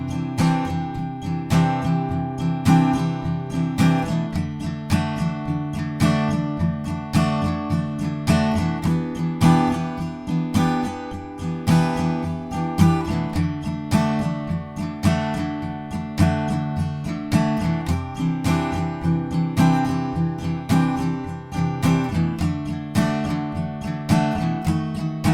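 Acoustic guitar strums the bridge chord progression of a song, steady rhythmic strumming with full ringing chords throughout, played alone without voices.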